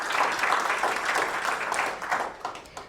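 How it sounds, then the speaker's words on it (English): An awards ceremony audience applauds a finalist, a full, continuous wash of many hands clapping together that stays loud throughout and begins to thin out near the end. "Let's give a round of applause for Dr."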